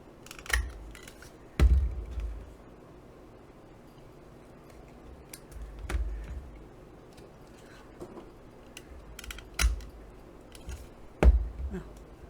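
A handheld paper punch clacks through paint chips, sharp close punches spaced a few seconds apart with quiet pauses between.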